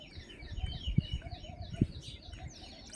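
On a morning walk through village hills, assorted birds chirp and twitter in quick overlapping phrases, with a possible dove-like coo and a few low thumps beneath, moderately quiet and with no talking.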